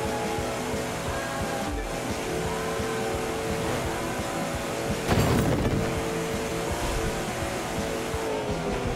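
Koenigsegg Regera hypercar accelerating in the racing video game The Crew 2, a steady loud engine drone with a brief surge of revving and tire noise partway through, no voices.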